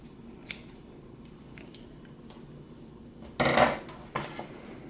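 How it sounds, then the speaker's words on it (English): A quick crisp snip of scissors cutting through a piece of yarn while making a knitted pom-pom tree, one short close cut followed by a softer click, set against a quiet room. "I'm just going to cut that piece of yarn, leaving a little bit of extra"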